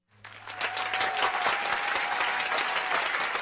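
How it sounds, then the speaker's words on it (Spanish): A studio audience applauds the guests at the end of a Spanish-language civic talk show, dense sustained clapping that starts quickly and holds steady and loud, with a faint tone underneath. "aplausos para mis invitados"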